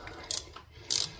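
Two quick bursts of ratchet clicks as a nut is worked loose from the fuel rail of a Honda engine, close and crisp with a short pause between them.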